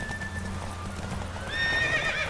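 A horse in The Witcher 3: Wild Hunt whinnies clearly while its hooves clip-clop in a steady rhythm close by, with a game soundtrack playing underneath.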